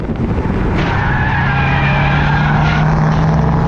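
A race car in a 24-hour endurance race squeals its tires in a loud, continuous skid over a heavy engine drone during contact with a Miata, with no sharp impact standing out.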